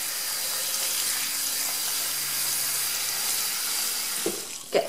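A kitchen tap runs in a steady hissing stream as a Stampin' Scrub is rinsed, with a couple of brief splashy knocks near the end.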